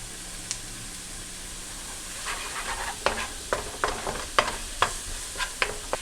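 Vegetables cook in a pan on an electric stove, a soft background sizzle broken by a run of sharp, close clinks and scrapes from stirring in the second half.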